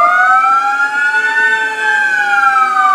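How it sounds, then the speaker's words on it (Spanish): An ambulance siren wails steady and loud through the streets of Cancún for the whole stretch, its pitch slowly rising and falling as it passes close by. "pues viene la ambulancia."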